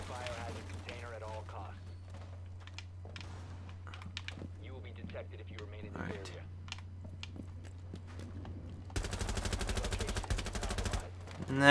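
Rapid automatic assault rifle fire in Rainbow Six Siege, a dense sustained burst near the end that follows softer game sounds, with keyboard-like clicking throughout and a voice talking earlier.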